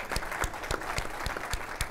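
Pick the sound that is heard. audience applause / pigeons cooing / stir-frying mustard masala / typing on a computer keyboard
audience applause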